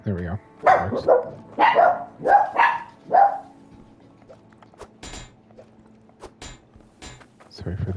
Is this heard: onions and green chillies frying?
no